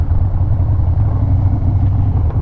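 A car engine runs steadily at close range, a continuous low rumble with slight clatter and no pauses, with no smoke from the exhaust.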